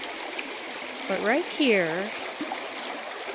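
A bubbling creek keeps up a steady, even rush of flowing water, while someone speaks briefly over it midway through.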